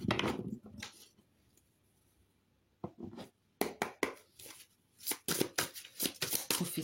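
Oracle cards are handled and shuffled, with quick bursts of papery riffling and soft slaps separated by near-silent pauses, close and quiet.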